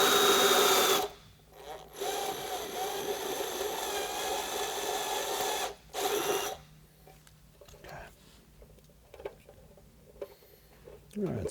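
Drill boring a hole into a motorcycle windshield extension, a loud steady whine near the start and middle that stops abruptly, followed by quieter handling sounds and someone talking.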